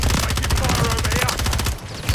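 Sustained automatic gunfire in a Call of Duty firefight, loud and close, with rapid, dense bursts that fill the whole moment before tailing off briefly.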